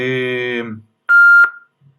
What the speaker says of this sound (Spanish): está sonando la alarma del Cuerpo de Bomberos